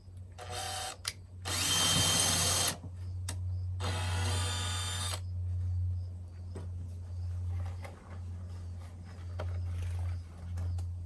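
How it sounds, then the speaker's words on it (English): A power drill pre-drills screw holes through a board in amateur construction work, giving two loud, whirring bursts of about a second each, close by, over a steady low hum with faint knocks between. "I can go through and pre-drill both sides"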